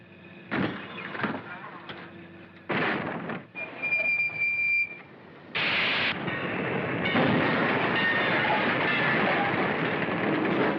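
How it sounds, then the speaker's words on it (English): A model train in the 1941 film Sleepers West rumbles and clatters along the track before crashing into part of a truck, with brief squeals and bursts of noise, steady and fairly close throughout. "the train is heading along and can't stop in time to avoid hitting part of a truck"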